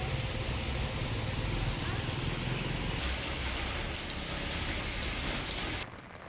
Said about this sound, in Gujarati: અચાનક વરસેલા વરસાદથી જનજીવનને માઠી અસર.